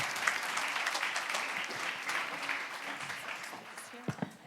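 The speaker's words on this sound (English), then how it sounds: "Big round of applause." Audience applause at a Future of Work conference, a steady dense clapping that fills the whole stretch, with a few voices and cheers briefly rising over it near the end.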